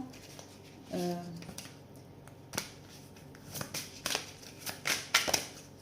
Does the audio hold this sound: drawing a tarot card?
yes